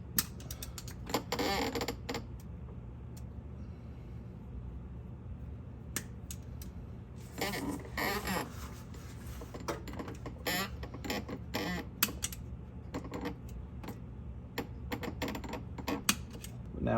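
A small flathead screwdriver pries at a transmission seal, giving irregular bursts of sharp metallic clicks, scrapes and creaks close to the microphone, separated by quieter pauses over a faint steady hum.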